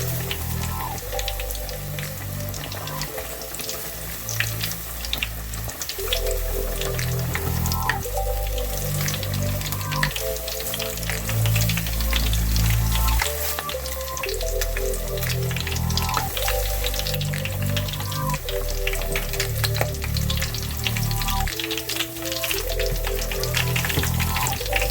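King crab pieces frying in a pan as a home cook moves them around to keep them from sticking, a loud dense sizzle and crackle with scraping and clinks, steady throughout with no talking.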